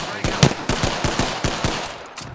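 Gunfire from Apex Legends, likely Alternator and Flatline weapons, fires in a quick automatic burst of about nine sharp, evenly spaced shots, loud and close with no talk.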